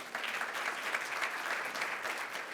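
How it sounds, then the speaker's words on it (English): An audience at a healthcare innovation summit gives a speaker a round of applause, with continuous dense clapping from many people at an even level throughout. "give him a round of applause, please."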